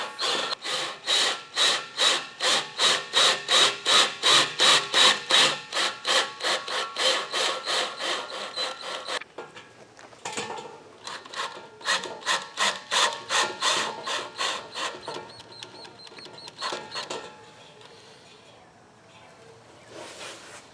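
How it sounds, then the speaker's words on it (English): A self-tapping screw is driven to fix the mounting bracket of a vehicle LED light bar, giving a close series of regular rhythmic grinding pulses that slow and break into shorter uneven bursts before fading out. "We're going to put a self-tapping screw in there, and we'll know that that will hold."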